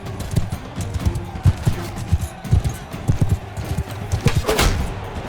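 Horse hooves clip-clop in the video game Mount & Blade 2 Bannerlord, a loud, close, steady galloping rhythm of repeated thuds that runs for several seconds with no talking over it.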